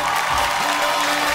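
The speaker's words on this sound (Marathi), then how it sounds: "जोरदार टाळ्या." Loud applause from a studio audience on a Marathi TV game show, a steady wash of clapping and crowd noise filling the whole moment without a break.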